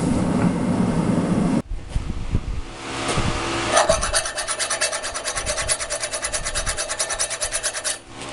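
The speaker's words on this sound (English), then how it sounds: "Going to put it to the file test." Steady rhythmic rasping of a file drawn back and forth across a steel railroad spike, close and loud, with a quick regular stroke pattern and no talking.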